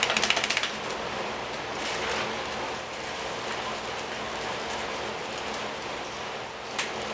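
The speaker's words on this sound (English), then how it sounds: "I just go back and forth between rubbing it across the screen" Compost is rubbed back and forth across a fine indoor screen and shaken through it, making a dense, continuous gritty patter close by, with a quick clicking rattle at the start and no speech.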